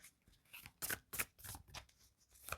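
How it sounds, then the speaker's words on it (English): Crisp riffling and flapping bursts of a deck of cards being shuffled, several quick rustles close to the listener, with no one speaking. "This deck is a little bit big for my hand, so I find it a little more challenging to"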